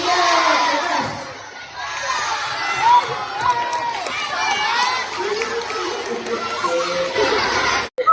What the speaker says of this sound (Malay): Kawan-kawan kita pun nampak sangat teruja. Siap tepuk tangan ramai-ramai.